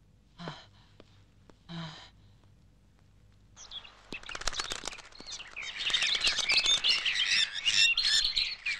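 Caged lovebirds burst into dense, busy chirping and tweeting that fills the second half, preceded by a couple of soft breathy sighs and quiet pauses.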